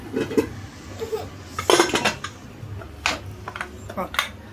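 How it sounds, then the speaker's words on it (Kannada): Pressure cooker lid being closed over mushroom biryani, with metallic clanks and clinks in short bursts amid kitchen noise while a person talks. "ಇವಾಗ ನಾನು ಕುಕ್ಕರ್ ಲಿಡ್ಡನ್ನು ಕ್ಲೋಸ್ ಮಾಡಿ"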